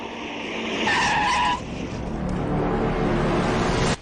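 A car skids hard and then lurches to a stop as it gets stuck in a pothole on a village road, with a loud, rough tire-and-engine rush that swells mid-way, then grinds on steadily before cutting off abruptly.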